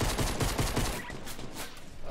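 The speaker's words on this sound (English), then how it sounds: "shooting is really cartoony" Cartoonish gunfire from the video game Fortnite comes as a rapid string of loud shots in the first second. The firing then gives way to a softer, busier stretch of game sound.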